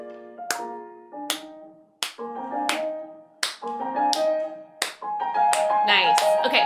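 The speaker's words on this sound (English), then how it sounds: "Clap with me." Sharp hand claps marking a steady rhythmic pulse, spaced about every three-quarters of a second, ringing over sustained musical tones that grow denser toward the end.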